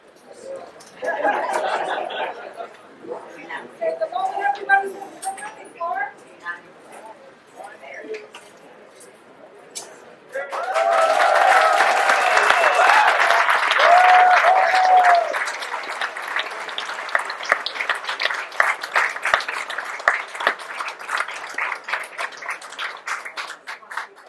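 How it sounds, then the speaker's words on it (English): At a ribbon-cutting celebration on a portico, the crowd first murmurs and chuckles sparsely. Then a loud burst of applause breaks out midway and holds for several seconds before thinning into scattered claps with chatter and laughter. "incredible applause"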